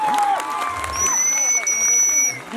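Audience at a comedy show in a cricket stadium applauds and cheers, a steady wash of clapping with whoops rising over it, with a loud whistle tone running through the middle.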